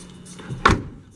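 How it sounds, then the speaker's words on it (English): The extended King Cab rear door of a 2005 Nissan Frontier LE 4x4 pickup opens with a single short, fairly loud clunk about midway through, with a quiet background before and after. "you got this little extended cab door that opens so you have easier access to the back section there"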